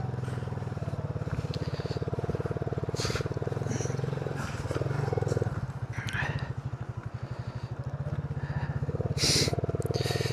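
A Delta moped putters slowly along a snowy winter road, its small engine a steady close drone under intermittent speech from the rider.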